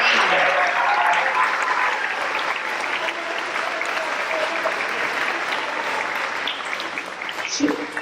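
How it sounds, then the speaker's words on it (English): Steady applause for award-winning students at an 8th grade awards program fills the room, dense and even throughout with faint murmuring beneath and a brief stir near the end. "Have a round of applause."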